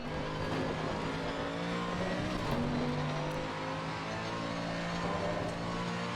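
A 2015 or 2020 Mercedes GT3 race car in the Assetto Corsa racing game, its engine droning continuously and loudly at a steady pitch with slight rises, close up for the whole stretch, no voices.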